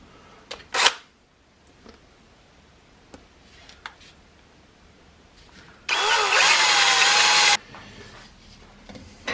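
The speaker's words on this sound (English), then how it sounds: "If you're going to drill that, drill it real slow." A power drill boring slowly into wood runs in one steady, loud burst of about two seconds, its whine sliding down as the bit bites in, with sharp knocks and handling clatter around it and no talk.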